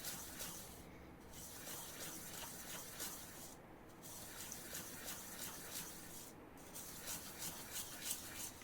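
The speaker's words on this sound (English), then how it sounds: "now I'm going to sand it a little bit more." A tanto-blade balisong knife is hand-sanded to tune it: a faint, steady abrasive rubbing with quick repeated strokes, continuing close by with no talking.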